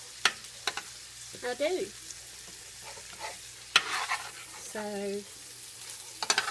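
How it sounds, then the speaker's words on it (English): Garlic browns in a pan for a penne, chicken and pesto dish, giving a soft, low sizzle broken by a few sharp spoon scrapes and stirs. A person speaks briefly in between. "that garlic has browned a little bit"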